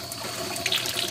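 Hot water runs continuously from a tap fed by a 30 amp, 220 volt IsoGreen tankless electric water heater, a steady close splashing flow with no talk over it.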